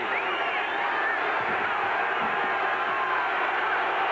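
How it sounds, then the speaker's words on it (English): Loud, steady crowd roar fills a stadium during a 1984 USFL football game between the Houston Gamblers and Michigan Panthers, sustained throughout without a break. "Listen to the crowd."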